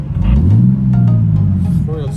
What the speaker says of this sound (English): We hit a sizable rock, and the car's a bit louder now.